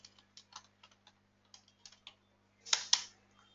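Keystrokes on a computer keyboard entering a database command, a series of light scattered taps followed by two louder strikes near the end, close and clear over a faint steady hum.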